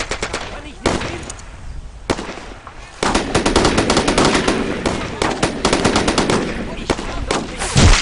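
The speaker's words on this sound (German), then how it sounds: "Die schießen auf mich!" Rapid machine-gun bursts and rifle shots crackle through a World War II battle in the game Brothers in Arms, loud and continuous with brief pauses, while German voices shout over the firing.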